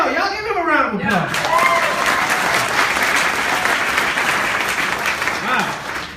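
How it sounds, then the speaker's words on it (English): A comedy club audience in Tucson bursts into loud, sustained applause and cheering right after a brief voice, the clapping filling the room and slowly tapering. "y'all give him a round of applause"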